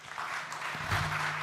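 Applause from an audience at the Invent Oregon 2023 collegiate finals, a steady wash of clapping that holds at an even level through the whole moment, with no distinct individual claps standing out.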